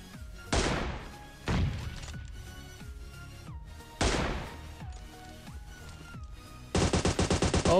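Gunfire from a PUBG Mobile firefight on the desert map: loud single shots echoing with sharp decays at intervals, then a fast rattling automatic burst at the end.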